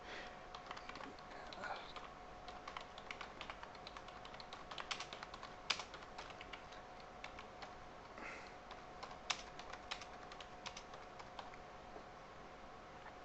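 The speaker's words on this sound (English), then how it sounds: "I'll just type in some details" Someone types on a computer keyboard while entering details during a software installation, producing quiet, irregular clusters of close key clicks with a few louder taps and short pauses throughout.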